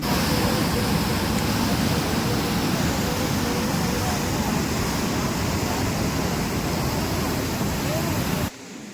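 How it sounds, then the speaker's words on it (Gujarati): Heavy overflow water rushes over the Bagad dam after rain in a steady, loud broadband roar that fills the whole clip before it drops off abruptly near the end. "બગડ ડેમમાં આખું ફૂલ અવર પલ્લો થઈ ગયો છે"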